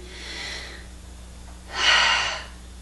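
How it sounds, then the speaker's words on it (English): A person takes two audible breaths, a soft inhale followed by a longer, deeper, louder breath in, close and clear with no talking. "Breathe in."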